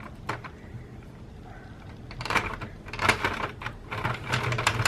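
A Sentro circular knitting machine is cranked by hand, giving a quick burst of plastic clacking early, a lull, then a long run of rapid ratcheting clicks that grows busier and louder toward the end.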